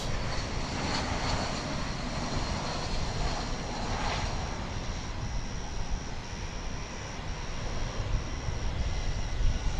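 An airliner on flight 971 from Los Angeles comes in to land at DFW Airport, heard as a continuous broadband engine roar at a moderate distance with a steady whine on top.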